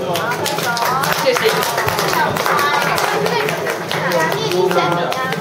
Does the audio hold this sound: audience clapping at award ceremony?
yes